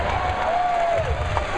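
A live comedy audience in an amphitheatre cheers and whoops, with a sustained whistle rising out of the crowd noise over a steady, moderately loud wash of voices.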